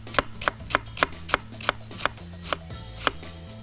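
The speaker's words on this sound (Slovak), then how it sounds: "Fenikel nakrájame tiež na plátky." A knife slices fennel into thin slices on a board, about a dozen crisp evenly paced cuts, close and clear, with no talking.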